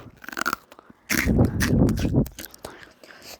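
Freeze-dried strawberry gets bitten and chewed right at the mouth, a burst of crisp, airy crunching after a few lighter crackles, with brief soft talk around it.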